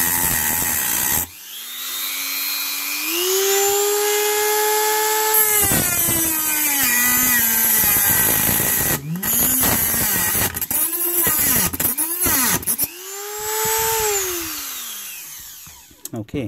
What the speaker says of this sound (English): So I've got my diamond cutoff wheel, and yeah, we'll just cut it in half and see what's inside.